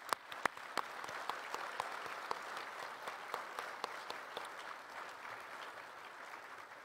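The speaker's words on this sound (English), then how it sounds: "Can we all please give a round of applause for all of our sponsors?" Quiet audience applause at a 2023 gala honouring sponsors, a thin, sparse patter of clapping with a few sharper individual claps standing out, continuing steadily for several seconds.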